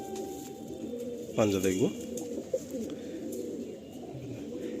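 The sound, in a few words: pigeons cooing in a loft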